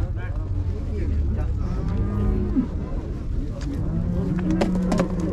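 Cattle low repeatedly at a busy livestock bazaar in Uzynagash, several deep drawn-out moos rising over steady crowd murmur and people talking nearby.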